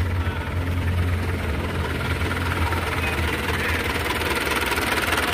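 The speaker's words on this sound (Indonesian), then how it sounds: "kita langsung dengarkan suara mesinnya secara langsung" A 2003 Mazda BT 4x4 diesel pickup engine, the same engine as the Ford Ranger, idles with a steady, low, rumbling clatter, close and continuous throughout.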